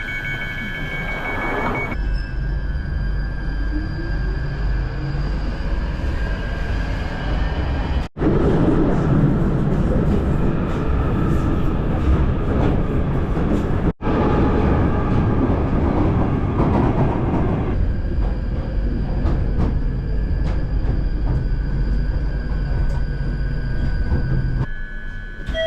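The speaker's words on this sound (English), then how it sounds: "This is a Northern Line train terminating at Morden." A London Underground Northern Line train runs toward Morden, heard from inside the carriage as a continuous loud rumble with rhythmic wheel clatter and a rising and falling motor whine, broken by two brief sharp cuts.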